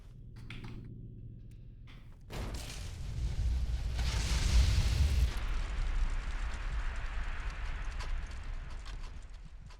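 A grenade goes off in Fallout: New Vegas after a quiet lead-in, a sudden loud blast at about two seconds followed by a long rumbling, crackling roar that slowly fades.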